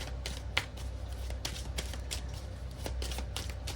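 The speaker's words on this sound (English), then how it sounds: "I'm sitting there shuffling" A tarot card deck being shuffled by hand gives a quiet run of crisp, riffling card flicks and soft slaps in an irregular rhythm, close and alone.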